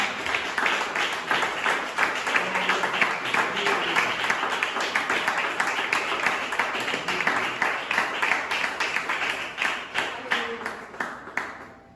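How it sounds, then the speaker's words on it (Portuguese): A church congregation applauds during a worship service, many hands clapping in a dense, steady patter that runs for several seconds before thinning and fading toward the end. "Você pode aplaudir ao Senhor por isso?"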